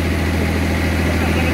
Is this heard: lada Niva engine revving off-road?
yes